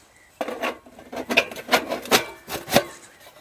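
Sawdust pours into a cold smoke generator with an active cooler, giving a series of soft dry rasping, rubbing bursts in a quiet room with no talk.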